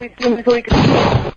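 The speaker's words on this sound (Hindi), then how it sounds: "हवा में क्यों वेस्ट कर रहे हो गोली" A voice speaks for a moment before a single loud, sharp gunshot fired into the air cuts in and rings out briefly.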